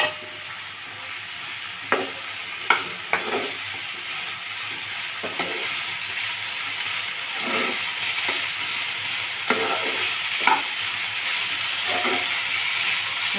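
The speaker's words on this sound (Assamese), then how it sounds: "বিলাহীটো আৰু এই কঁঠাল গুটিখিনি একেলগে দি পেলাই আকৌ এবাৰ ভালকৈ লৰাই বকৰাই ভাজি ল'ম।" Peeled tomato and jackfruit seeds fry in a pan with a low, steady sizzle, broken by repeated sharp scrapes and clatters as a spoon stirs them at irregular intervals, with no talking.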